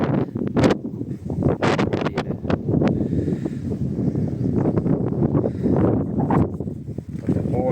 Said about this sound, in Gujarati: આજે ફૂલ પવન છે.